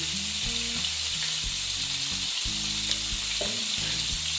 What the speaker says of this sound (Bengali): মাছগুলো প্রায় ভাজা হয়ে গেছে